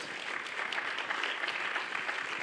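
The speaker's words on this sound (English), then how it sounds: "you can applaud it, yes" An audience applauds steadily at a New York film festival Q&A, a dense even wash of clapping that holds throughout at moderate level.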